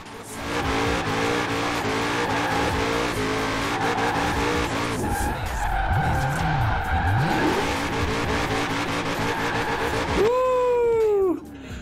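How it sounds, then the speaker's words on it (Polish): A Mustang Shelby GT500 drifts in Forza Horizon 4, its engine roaring and revving through gear changes while the tires squeal loudly, ending in a long, pitch-bending screech. "On nie jest taki stabilny podczas tego driftu."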